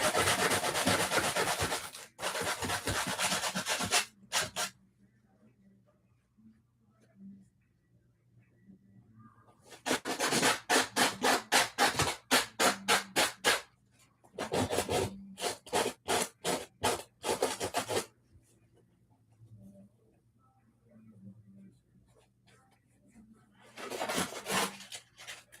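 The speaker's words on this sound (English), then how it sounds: "I feel like the more I sand it" A wooden piece is sanded by hand, with rhythmic raspy strokes in several bursts separated by quiet pauses, close and moderately loud.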